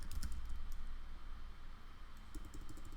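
Typing on a computer keyboard, with clusters of quick light key taps at the start and again near the end over a low hum of background noise.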